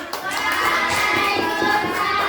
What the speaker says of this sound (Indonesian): luar biasa tepuk tangannya